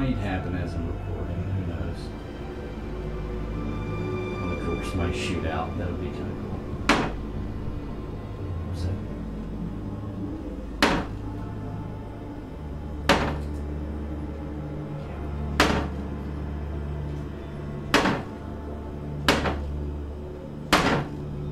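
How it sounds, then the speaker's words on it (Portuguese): A kitchen cupboard door bangs shut again and again, sharp knocks arriving every two to three seconds over a low, steady background hum. "a porta do armário da cozinha começou a bater sem nenhuma explicação"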